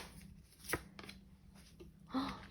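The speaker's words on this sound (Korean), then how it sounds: "그리고 조언의 카드 제가 뽑아보도록 하겠습니다" Tarot cards are shuffled and drawn, giving soft papery riffles and flicks with a few sharper snaps, close but fairly quiet over a faint steady background hum.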